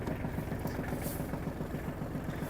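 A Hinomoto NX-201 (Kubota GL-201) Japanese mini tractor engine idling just after starting, a steady low rhythmic chug held at an even level throughout, close by and alone.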